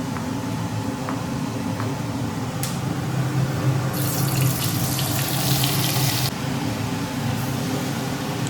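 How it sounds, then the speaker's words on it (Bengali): Water runs steadily from a tap outside a home, with a stronger gush partway through as hands and feet are washed under it; a continuous, close splashing stream. "এই কলটা করে ভালো হয়েছে, বাইরে থেকে এসে হাত পা ধুয়ে ঘরে ঢোকা যায়।"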